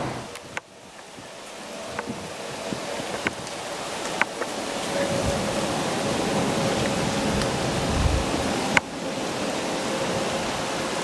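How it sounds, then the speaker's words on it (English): Wind blowing steadily across an outdoor hunting spot, a broad rushing hiss that swells gradually and holds, with a few small knocks and clicks near the microphone and no talking. "The wind in this spot."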